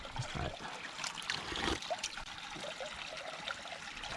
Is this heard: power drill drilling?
no